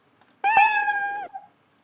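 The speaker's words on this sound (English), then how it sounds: "Suppose I choose meow." A cat meow sound effect from the Scratch programming library: a single clear, tonal meow lasting about a second, with a slight downward bend at the end, close and isolated against silence.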